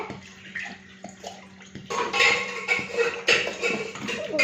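Cold water pours steadily into a mixer jar, a soft trickle at first that swells into a louder, splashing gush, close by with faint clatter.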